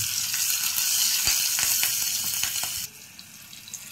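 Chopped green chillies hit hot oil with asafoetida and crackle into a loud sizzle with sharp pops, then drop abruptly to a quieter, softer fry.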